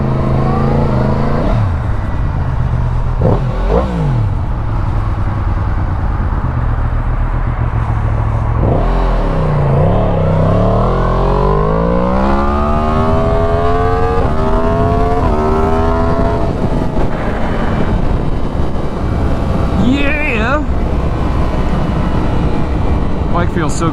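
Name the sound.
Suzuki SV650 motorcycle engine accelerating on test ride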